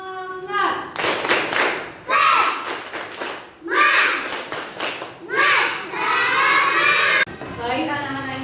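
Class 3A schoolchildren in an Indonesian primary school perform a rhythmic clapping chant, bursts of claps in patterned groups mixed with children's chanted voices, loud and close in a classroom.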